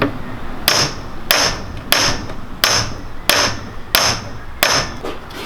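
Seven evenly spaced hammer blows ring out on a steel sprocket stuck on a splined shaft, sharp metallic clanks about every half-second to second, close and loud with no talking.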